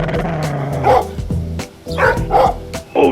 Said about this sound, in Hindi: अरे ये डोडो क्यों भौंक रहा है?